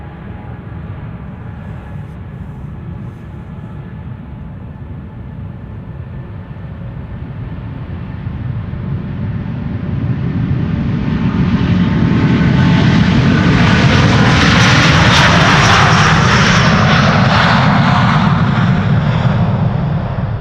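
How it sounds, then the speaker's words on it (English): A Delta Airlines Airbus A330neo jet takes off at Amsterdam Schiphol Airport, its engine roar building steadily from a distant rumble to a loud, close, broadband thunder that holds near its peak as the aircraft passes. "Delta Airlines Flight 49, A330 Neo going to New York"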